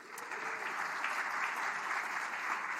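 An evening audience at the Jewish Community Center of San Francisco claps warmly, a dense, steady wash of applause holding at an even level throughout.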